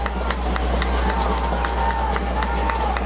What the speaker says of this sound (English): Moline crowd getting real loud on this side of the field here